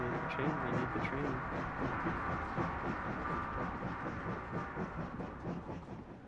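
A train in the video game Oddworld: Soulstorm rolls past as a dense, continuous rumble with a rhythmic clatter of wheels, fairly loud and steady before easing off slightly at the end.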